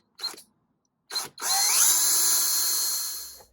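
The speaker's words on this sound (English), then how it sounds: "I'm gonna have to drill a new hole back here" A power drill bores a new hole for motor wiring in a model western boomtown building. Two short trigger bursts come first, then a sustained high whine that rises in pitch and runs about two seconds close up, with no talk.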